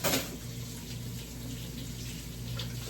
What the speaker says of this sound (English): And I'm going to wash off my spatula.